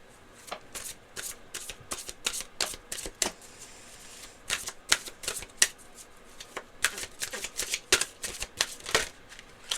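Tarot cards shuffled and drawn by hand, a dense run of crisp riffling slaps and flicks in quick bursts, close and loud, with no talking.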